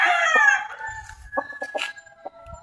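A young rooster, a stag, crows loudly and close up in one strained, rising call, followed by a few short clucks and faint scattered noises.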